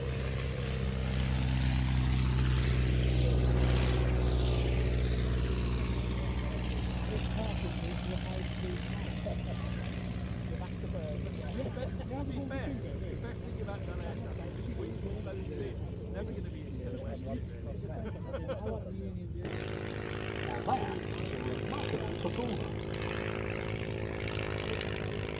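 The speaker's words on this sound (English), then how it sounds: "Old Edwardian aircraft starting off right now with this wonderful Avro triplane." Vintage Edwardian Avro triplane with an old piston engine and propeller running throughout, a loud steady droning roar with pitch changes, close by, with a voice talking over it.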